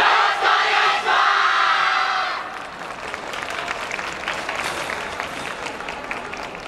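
A crowd at a yosakoi dance performance in front of JR Kyoto Station claps loudly in dense applause with some cheering, then it thins into scattered, quieter clapping that continues to the end.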